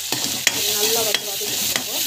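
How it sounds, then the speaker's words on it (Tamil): Salt and turmeric powder being sautéed in a pan: a steady sizzle with a few sharp spatula scrapes spaced about half a second apart, close and with no talk. "நல்லா வந்து வதக்கிட்டுக்கோங்க."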